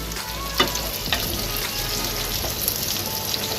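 Capsicum and onion fry in a pan over a high gas flame for a half-cooked paneer chilli, a steady loud sizzle running throughout with a few sharper crackles and stirring clinks, no voices.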